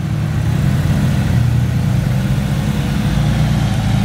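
A Porsche 911 engine idles at a Porsche show at the Beaulieu National Motor Museum, a loud, steady low rumble close by with no one speaking.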